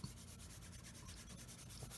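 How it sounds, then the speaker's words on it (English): A flexible sanding strip works a cylindrical part of a Tamiya 1/35 German 3.5-ton truck model, making soft, faint, close-up rubbing strokes in a steady back-and-forth rhythm. "it helps avoid sanding flat spots on cylindrical shaped objects"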